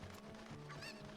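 Chicken clucking from a Zelda game (Ocarina of Time or Breath of the Wild), a few short squawky calls over a steady low game soundtrack, moderately quiet.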